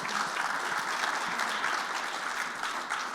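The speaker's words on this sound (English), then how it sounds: "Can you guys just give them a big round of applause for what they're doing?" Warm, sustained applause from a conference audience for a healthcare neurotech panel at CES, even and continuous throughout with no talk over it.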